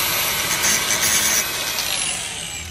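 A power tool cuts through a piece for a Nissan 350z transmission, a loud, close, continuous grinding whine that fades slightly near the end.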